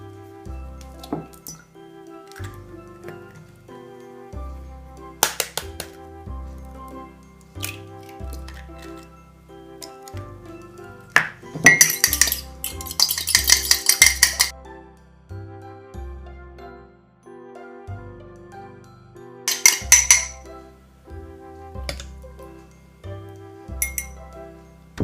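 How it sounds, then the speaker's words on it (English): Two eggs are beaten together in a bowl with a utensil for cupcake batter, giving irregular clinks and taps against the bowl with bursts of quicker rattling strokes. "we'll beat the 2 eggs together"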